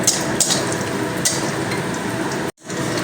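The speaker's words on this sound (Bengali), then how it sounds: "বড়িগুলো একটু কড়া করে ভেজে নেব" Lentil dumplings (bori) frying in a pan of hot oil for a Bengali cauliflower-stem dish, a steady close crackling sizzle with a few sharper pops and a brief dropout near the end.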